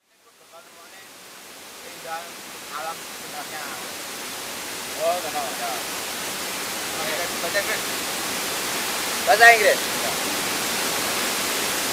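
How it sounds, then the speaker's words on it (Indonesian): Pletuk waterfall in Ponorogo, a steady broadband rush of falling water that swells gradually, with a voice speaking briefly over it. "Air terjun Petuk. It means waterfall Petuk."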